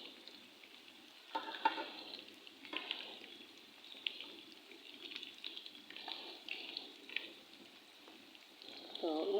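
Kofta frying in oil gives a steady low sizzle with soft crackle throughout, punctuated by a few stirring scrapes and clatters, heard close up with no talking.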